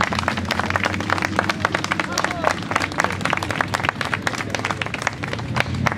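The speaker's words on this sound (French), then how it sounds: "je vous demande de l'applaudir très très fort" Audience applause at the opening celebration of Charleroi village du monde, dense steady clapping throughout with crowd chatter and voices mixed underneath.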